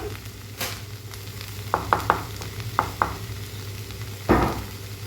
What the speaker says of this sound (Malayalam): ഈ ഒരു സമയത്ത് നമുക്കിതിലേക്ക് ചേർത്ത് കൊടുക്കുന്നത് മുട്ടയാണ്.